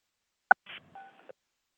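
Telephone keypad touch-tones sound as a phone line is taken off mute during a design review board conference call: a sharp click, then a couple of short dual-tone beeps spaced unevenly in quiet surroundings.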